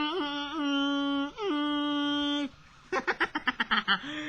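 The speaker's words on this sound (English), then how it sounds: "It actually reminds me of the MLG horn, which sounds like this." Loud tonal horn blasts like the meme air horn from a novelty toy: two long steady honks, then a burst of short, rapid quacking toots.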